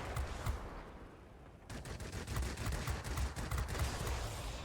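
Aircraft machine guns in World of Warplanes fire rapid continuous bursts, a dense rattling fusillade that pauses briefly and then resumes louder and sustained, close and loud.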